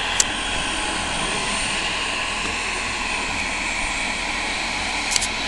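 An American Eagle Embraer 145 jet takes off at Fargo, North Dakota, its engines producing a loud, continuous roar and whine that stays steady throughout.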